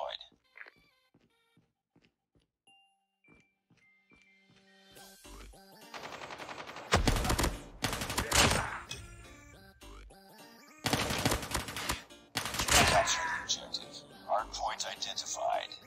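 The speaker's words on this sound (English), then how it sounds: "Sentry gun deployed." Sentry gun and other automatic weapons firing in the game Call of Duty Mobile on a Hardpoint match, with dense loud bursts of rapid gunfire in the second half after quieter game sounds.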